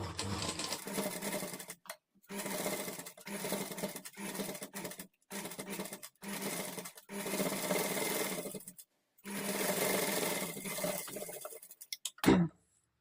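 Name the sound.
sewing machine stitching invisible thread piping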